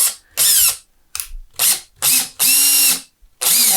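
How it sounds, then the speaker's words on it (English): A power drill set to low torque whirs in several short bursts with pauses between, ending in a longer run where the motor strains and slows as a screw seats. "I used our drill set to a low torque so I don't over tighten."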